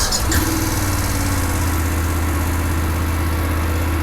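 Triumph Thruxton R motorcycle engine idling, a steady low rumble that carries unbroken from start to finish, with a faint voice murmuring under it near the beginning.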